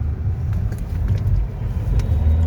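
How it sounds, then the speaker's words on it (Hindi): Road traffic heard from inside a car on a busy Eid holiday evening near Rajkot, a steady, loud low rumble of engine and tyres with faint clicks and no talk. "ईद के लेके बहुत ज़्यादा ट्रैफिक है आज।"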